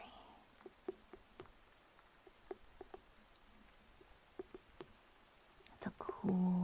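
Soft rain with scattered raindrops falling in a botanical garden, faint irregular ticks and taps over a quiet hiss, ending in a louder burst of patter.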